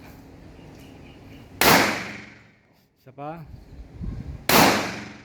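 Two sharp pistol shots at an outdoor shooting range, a few seconds apart, each a loud close crack with a short decaying tail, with someone speaking briefly between them.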